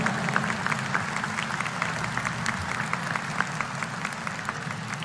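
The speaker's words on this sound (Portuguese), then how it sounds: "Vamos saudá-lo também com uma salva de palmas," A church congregation applauding a priest in a sustained round of steady, fairly dense clapping, heard at moderate distance and lasting throughout.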